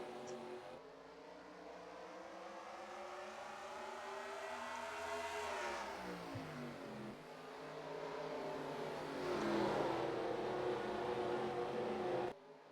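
Stock cars roaring away from the green flag at North Wilkesboro in the NR2003 racing game, a dense pack of engines revving and rising in pitch, swelling louder as the field accelerates, with no voices over it.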